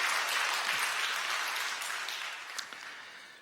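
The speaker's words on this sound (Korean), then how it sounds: "여러분들 환영의 박수 부탁드립니다" A church congregation claps steadily in a large room, a dense patter of applause that slowly fades toward the end.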